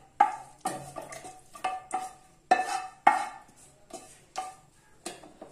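Cooked mixture for a methi paratha recipe being spooned from a pan into a mixie jar, giving a series of short scraping and clinking spoon strikes against metal, close and fairly loud, with no talk.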